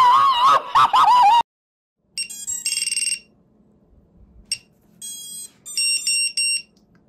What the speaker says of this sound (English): It's done all the little beeps that you normally have on your quad when you set it up.